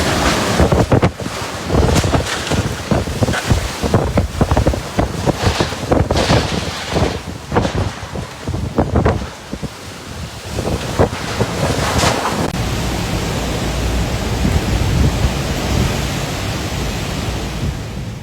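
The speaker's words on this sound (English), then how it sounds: "walls of water, hurricane-force winds," Typhoon Podul striking Taitung, Taiwan, in August 2025: roaring, gusting wind buffets the microphone over crashing surf. Loud bursts give way to a continuous heavy rush of wind and water.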